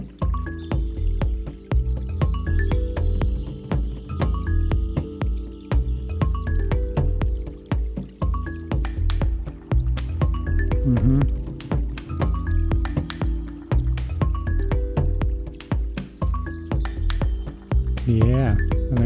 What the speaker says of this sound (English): I really like the wood sound that I have in there